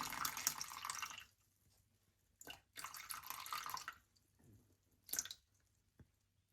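About 220 grams of water is poured straight onto prepared barbari bread dough in a kitchen, three short close splashing pours separated by silence, with no one talking.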